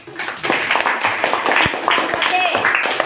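Hands clap in a classroom after a student's answer, a burst of scattered applause mixed with several voices talking over it.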